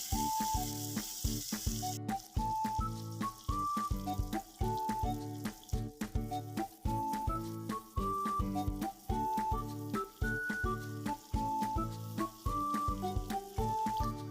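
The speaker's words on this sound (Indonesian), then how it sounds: "Pelan-pelan masukkan semua kangkungnya, lalu diaduk atau dioseng-oseng supaya tidak gosong dan supaya bumbunya tercampur merata." Water spinach and sliced spices stir-fry in a hot pan, a loud continuous sizzle broken by rhythmic scraping strokes of the spatula.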